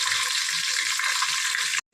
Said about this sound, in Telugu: మసాలాలు బిర్యానీ ఆకు అన్నీ వేసా కదా, అవి వేగుతూ ఉంటుంది.